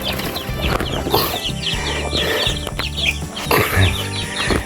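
Chickens clucking and rustling on a remote mountain farm, repeated nearby clucks and squawks over scratching and movement, with a few sharper calls.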